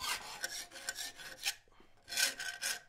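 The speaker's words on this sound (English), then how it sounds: "bastard cut half round file and literally just give this a skim" A bastard-cut half-round file skims the edge of a forged steel chest handle, giving quick rasping strokes in two bursts separated by a short pause, fairly quiet and close with no talk.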